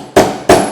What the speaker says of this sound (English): Let's go ahead and I'm going to punch it